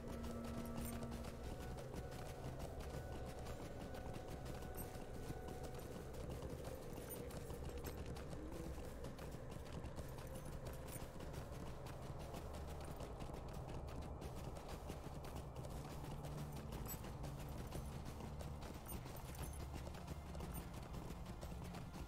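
Horse hooves clip-clop in a steady rhythm as a rider travels through the Lord of the Rings Online video game, faint and continuous with no talk.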